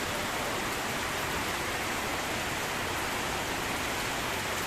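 Heavy rain pounds steadily on roofs during a downpour, a dense, even roar of hiss and spatter with no letup.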